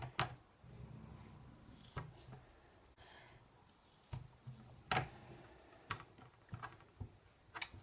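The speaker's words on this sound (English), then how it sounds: "And then I'm just going to cut them into slices." A knife cuts through canned corned beef on a board for hash, giving a series of sharp, separate taps and clicks at uneven intervals, close and fairly quiet, with no talking.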